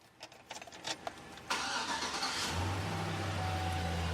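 A GMT800 pickup truck with a 5.3 V8 cranks briefly and catches, then settles into a steady idle after a short rev, heard close up with no talk.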